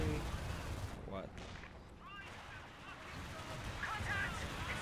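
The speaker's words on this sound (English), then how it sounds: "Artillery mortars, tons of units coming in here." Artillery and mortar fire in the strategy game Company of Heroes 2, a dense, continuous rumble of distant blasts and gunfire with a few whistling shells overhead, all fairly quiet and muffled.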